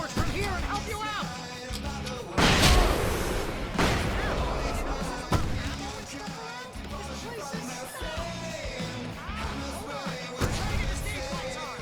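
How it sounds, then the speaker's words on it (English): Fireworks go off repeatedly in the video game Alan Wake Remastered, loud booming bursts that recur over roughly twelve seconds, mixed with scattered crowd-like chatter. "I can set off more of the fireworks from here and help you out!"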